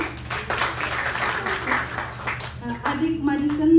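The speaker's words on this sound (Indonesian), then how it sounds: "Ini tepuk tangannya paling besar" Audience applause at a gathering where birthday wishes are read out, steady clapping from a crowd under a speaking voice, rising toward the end.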